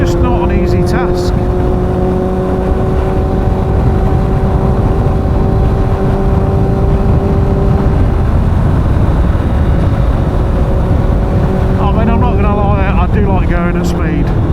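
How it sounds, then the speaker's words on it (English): A Honda CBR motorcycle rides at speed on a sunny road, a loud continuous engine roar with steady whining tones and heavy wind rush, shifting pitch near the end. "there's no better thrill for me than speed on a bike"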